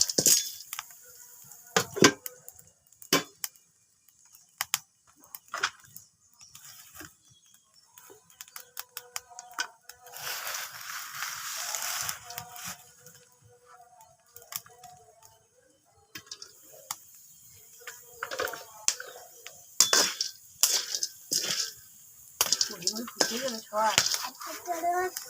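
Corn kernels pop one after another in hot oil inside a covered pan, sharp irregular cracks and ticks scattered throughout, sometimes clustering into quick bursts, with a faint background hiss.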